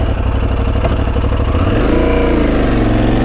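An Aprilia Tuareg 660 motorcycle ridden along Calaveras Road near Fremont and Milpitas, its engine a loud, close, continuous drone with rising revs and wind rush and no voices.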